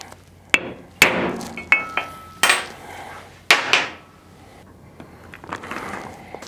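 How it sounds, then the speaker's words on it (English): Several sharp metallic taps ring out as a hammer strikes a center punch against a metal tank, irregular single hits with short bright decays, close and clear. "All right, so now we've got our center punch. Line it up on our marks."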